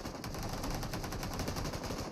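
Sustained automatic gunfire from an M249 machine gun in the PUBG Mobile esports team deathmatch, rapid dense bursts rattling continuously without pause at steady loud level.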